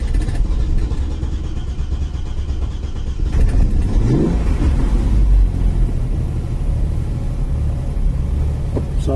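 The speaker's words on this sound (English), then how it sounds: "It's an old car, it's not going to start first time." An old Vauxhall Royale Coupe engine rumbles steadily, then roughly catches and revs up partway through before settling into a loud, continuous idle.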